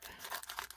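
A small plastic bag being snipped open with little scissors, giving a short, close, quiet burst of crinkling and rustling with no talk.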